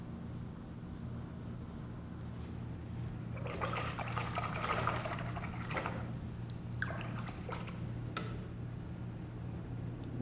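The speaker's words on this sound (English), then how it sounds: "rinsing your brush clean every time so that you get clean mixtures" A paintbrush is swished and rinsed in a water cup during watercolor painting, with a few seconds of close splashing and trickling, then scattered light drips over a low background hum.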